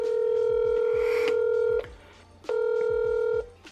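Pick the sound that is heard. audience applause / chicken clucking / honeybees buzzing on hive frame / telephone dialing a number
telephone dialing a number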